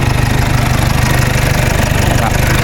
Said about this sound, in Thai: เครื่องยนต์แน่นๆโอ้โหแน่นจริง